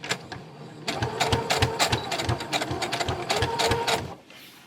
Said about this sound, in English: So we're just going to do 1/4 of an inch seam allowance.